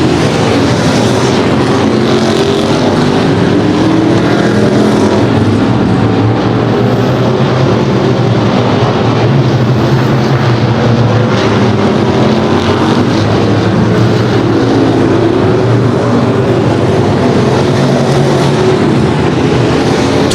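A pack of race cars at a night short-track race gives a constant, loud, buzzing engine drone that holds throughout, with slight swells as cars pass and no voices.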